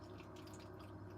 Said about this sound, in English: give me 2 seconds to fill my water